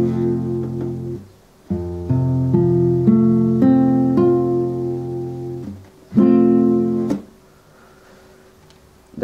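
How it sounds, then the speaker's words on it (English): An F bar chord is strummed on a guitar several times, the ringing chords separated by brief pauses and played loud and close with no voice. "That is an F bar chord."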